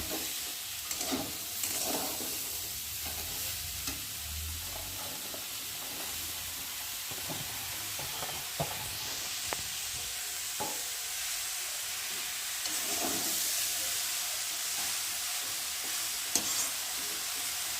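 Gati kochu (taro) sizzles softly in a pan while being stirred, with a steady low hiss broken by scraping and clinking strokes of the spoon at irregular intervals.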